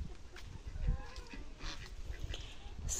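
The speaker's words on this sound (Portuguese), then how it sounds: "As galinhas vêm tudo pra cá." Chickens on a farm crowd in at feeding time as feed is brought, giving a busy, steady run of clucks and squawks close by with a noisy outdoor background.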